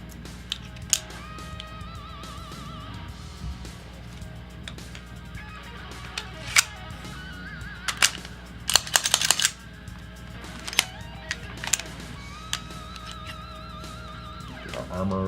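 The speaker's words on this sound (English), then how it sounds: "Reassemble our gun according to the operator's manual." Metallic clicks and snaps of a handgun being reassembled by hand, takedown pin and grip pieces fitted back into place, with scattered close taps and a brief cluster of sharper clicks midway over a quiet background.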